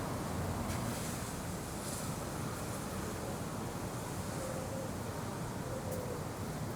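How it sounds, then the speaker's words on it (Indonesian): Strong wind blowing outdoors on a Sunday in Japan, a dense, unbroken roar buffeting the microphone, loud and steady throughout with no talk. "Anginnya kenceng banget, guys."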